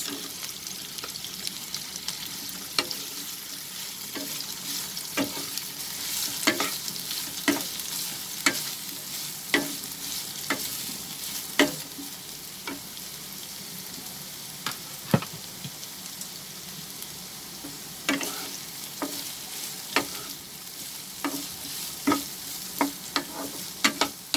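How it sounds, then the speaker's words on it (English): Carrots sautéing over a medium flame in a pan for a crispy chicken stir fry: a steady close sizzle runs throughout, broken by frequent scraping stirs. "We are sauteing this over medium flame"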